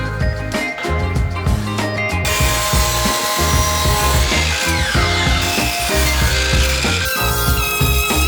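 Power saw cutting 45-degree angles on wooden boards for mid-century modern shelves, dense close-up mechanical whine and rasping cuts with repeated knocks and clatter throughout.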